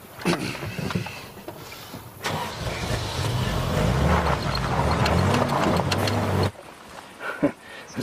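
A car engine turns over and runs with a steady, fairly loud rumble for several seconds as the vehicle drives off, then cuts back to quieter surroundings.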